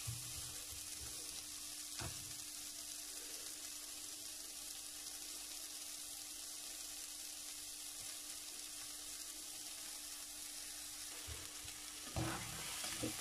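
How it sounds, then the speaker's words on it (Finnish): Onions brown slowly in a dry frying pan for caramelised onions, giving a faint, steady sizzle with a constant hum underneath and a couple of brief stirring scrapes at the start and the end. "Sipuli on ruskistunut pannulla kevyesti muutamia minuutteja ja saa nyt jo hieman väriä."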